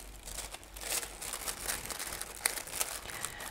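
Thin gold foil crinkles and rustles in short, close bursts as it is pressed down onto sticky double-sided tape, a soft papery crackle that comes and goes quietly over a few seconds.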